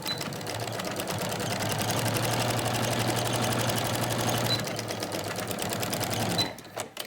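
A sewing machine stitching a fabric face mask, its needle running in a rapid steady rhythm for several seconds before slowing and stopping, close and clear.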